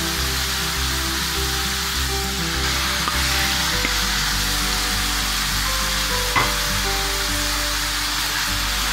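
Chopped onion goes into a pan with chicken that is already frying. A loud, steady sizzle and crackle carries on throughout, close and unbroken, with no talk.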